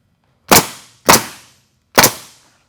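A nail gun shoots shingle scraps onto a roof rake: three sharp, loud pneumatic bangs, each with a short decay, the first two close together and the third after a longer gap.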